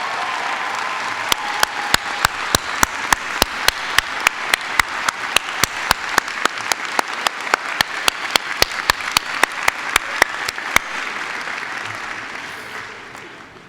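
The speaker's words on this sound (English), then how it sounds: "please stand so that we can give you a round of applause" An audience at a university hooding ceremony bursts into sustained applause in a hall, a dense wash of many hands clapping, with a steady sharp click repeating through most of it before the sound tapers off at the end.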